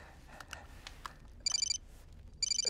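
A telephone rings in a quiet room, two short electronic trills about a second apart, clear and moderately near with no one speaking.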